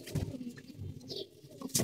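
Pigeons in a loft coo softly while other birds make faint calls and light pattering sounds, all close and fairly quiet, with no talking.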